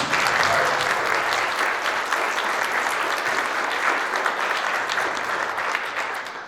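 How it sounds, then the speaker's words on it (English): A convention audience applauds steadily, a thick sustained wave of clapping that tapers off slightly at the end. "So give them a round of applause, guys."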